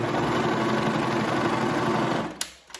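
A serger runs steadily along a gathered peplum dress seam, a loud, even mechanical whir for over two seconds before stopping, followed by a couple of small clicks.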